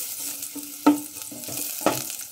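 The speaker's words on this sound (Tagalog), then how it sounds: "Gigisahin muna natin ang ating mga ricado mga kamix" Aromatics sizzle steadily in hot oil as they are sautéed for pork sinigang, with two sharp spatula-on-pan clanks a second apart over the continuous frying hiss.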